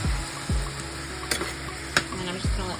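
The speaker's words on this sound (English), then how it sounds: "I'm just gonna add a little bit of the sauce in there." Browned sausage with jarred pasta sauce stirred in sizzles steadily in a pan, a close, soft frying hiss broken by a few light scrapes and taps of the stirring utensil.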